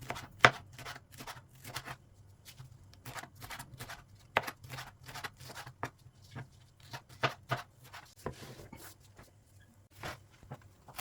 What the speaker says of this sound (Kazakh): Бұрышты өте жіңішке етіп турау қажет.